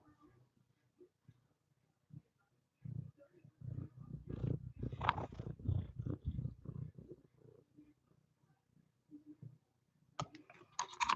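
A cat's low, rumbling purr swells and fades over several seconds, close up, with quiet gaps before and after and a few soft clicks at the end.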